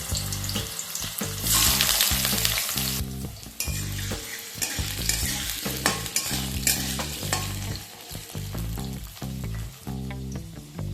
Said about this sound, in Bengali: বেগুন ভেজে নেবার পর এর মধ্যে পেঁপেটাকে আমি হালকা করে একটু ভেজে নেব।